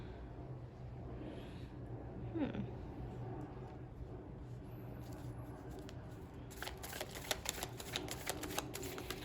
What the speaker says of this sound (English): I'm gonna just shuffle here for a second